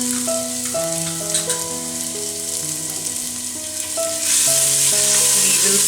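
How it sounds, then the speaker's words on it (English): Garlic and ginger sauté in a pan with a steady, soft sizzle that runs throughout beneath louder background music. "We will saute them nicely."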